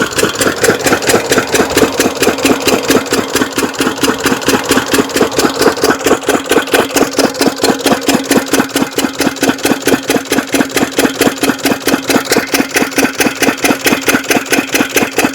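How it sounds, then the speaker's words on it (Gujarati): A motor-driven water pump machine runs steadily while filling water for household use, giving a loud, continuous rapid chugging pulse that holds an even rhythm from start to finish, with no one talking. "જો મશીન ચાલુ છે અત્યારે તો ફૂલ"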